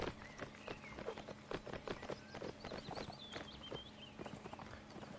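Horse hooves clip-clop in rapid, uneven beats in Mount & Blade's North & South mod line battle, with steady galloping thuds under a faint whistling tone and distant battlefield noise.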